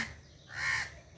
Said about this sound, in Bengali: এই যে কাক ডাকছে।